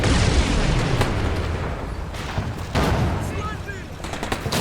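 Battle gunfire in the video game Combat Mission Black Sea: a dense, continuous crackle of shots and rumbling blasts at moderate volume, with brief louder bursts.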